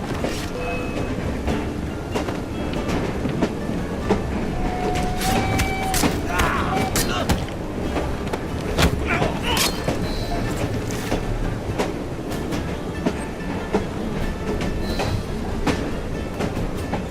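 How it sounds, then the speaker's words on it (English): Train running on rails in Assassin's Creed Syndicate, a loud continuous rumble with rhythmic clickety-clack, metallic clanks and brief wheel squeals, close and steady throughout. "at least we have a train now"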